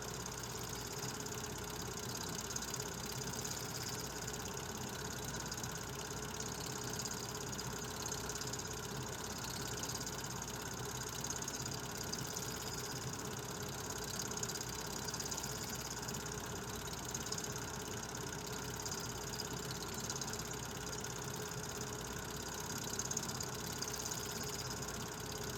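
A diesel switch engine idles near a rail line along River Road in Louisville, giving a steady, unchanging mechanical drone with low rumble and faint whine, moderately close and without pauses.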